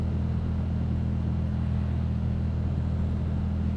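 A Yamaha MT-07 motorcycle rides along the road on a commute with a steady low engine rumble. Wind rushes over it without a break, and no voices are heard.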